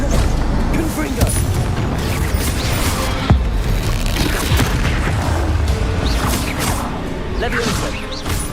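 Repeated booms and crashing blasts from the Confringo blasting spell in the video game Hogwarts Legacy, several explosive hits amid combat whooshes and clatter, with a voice speaking over the action.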